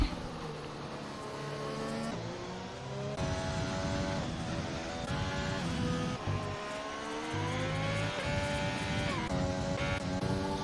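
Engines of racing cars on an Austrian circuit in a racing video game, with several cars closing in together, steady loud whining engine tones rising and falling through gear changes and revving across the whole stretch, no talking.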